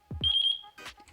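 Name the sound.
remote controller beeping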